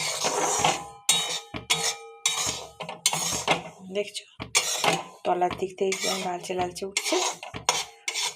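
Semolina dry-roasting in a pan, with a utensil scraping and clinking against the metal in irregular bursts close by, broken by short gaps while someone talks over the stirring.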